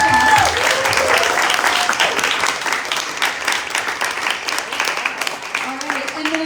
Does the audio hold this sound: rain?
no